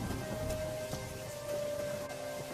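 Heavy rain pouring steadily in a storm, a dense, continuous hiss with scattered louder drops and patter, close and unbroken throughout, with a faint steady tone running underneath.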